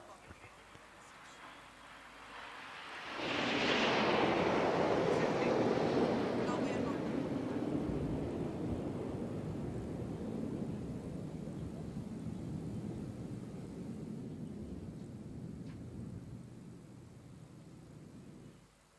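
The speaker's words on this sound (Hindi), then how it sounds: "और अब बारी है प्रशिक्षण के लिए उपयोग में लाए जाने वाले हॉक लड़ाकू विमानों की।" Hawk trainer fighter jets fly past during the INS Vikrant commissioning ceremony in Kochi, Kerala. A loud, swelling roar arrives suddenly with a high whine, then slowly fades into a long, rumbling wash.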